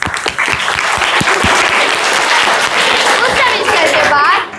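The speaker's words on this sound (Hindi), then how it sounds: "सभी स्टूडेंट ने मेरे लिए तालियां बजाई।" A crowd of students applauds at a school gathering, dense clapping that stays loud and continuous from start to finish.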